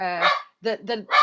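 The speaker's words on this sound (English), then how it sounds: "my dog that's barking" A pet dog barks nearby in a quick sequence of three or four sharp, fairly loud barks, with no talking.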